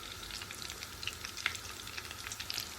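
Potato chops frying in hot oil for an iftar spread, a steady close crackling sizzle with scattered sharp pops, fairly quiet and continuous throughout with no talking.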